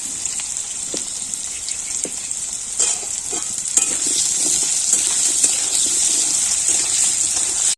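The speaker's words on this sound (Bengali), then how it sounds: "আলুগুলো একটু লাল লাল করে ভেজে নেব" Potatoes frying in oil in a pan for a Bengali home-cooked dish, a steady bright sizzle running throughout with occasional scrapes and stirring knocks, close and fairly loud with no talk.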